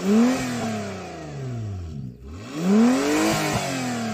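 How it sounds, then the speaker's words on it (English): Honda NSX engine revved hard twice from standstill, pitch climbing quickly and sweeping back down between bursts, loud and close, with no voices over it. "Go on, rev up the Honda."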